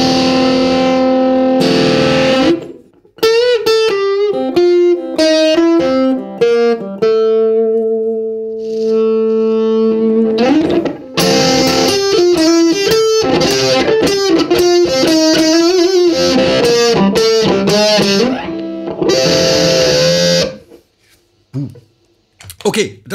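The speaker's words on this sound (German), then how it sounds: "das ist ein Fass. Das ist, wenn man so dieses Jimi Hendrix-typische Brutzeln haben möchte." An electric ukulele played through a fuzz pedal gives a buzzing, Hendrix-style sizzling distorted tone, with sustained notes and short phrases separated by brief pauses, loud and close.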